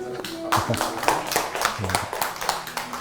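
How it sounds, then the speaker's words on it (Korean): Audience applause in a concert hall at a Chopin-themed lecture concert, a run of uneven claps rising and falling over about three seconds, with a voice briefly audible underneath. "큰 박수로"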